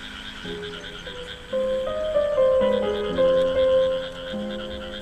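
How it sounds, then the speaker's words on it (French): Frogs croak in a rice paddy near Shanghai, a dense overlapping chorus of pitched, bleating calls close by and some farther off, continuous with no talking. "Les grenouilles croassent dans la rizière"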